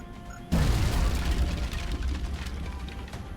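A grenade blast in XCOM: Enemy Unknown, one sudden loud boom half a second in, followed by a long rumbling decay with crackling debris that slowly fades.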